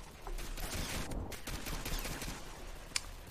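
Rapid bursts of gunfire from the Pixel Strike 3D shooter game crackle steadily across a busy, noisy game mix, with one sharp, louder shot near the end; no one speaks.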